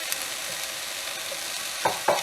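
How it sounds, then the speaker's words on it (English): Chicken pieces and greens stirred while heating in a pan for a wrap filling, a steady soft sizzle broken by two brief scraping stirs near the end. "I'm going to stir it up, just heating it up along with the greens."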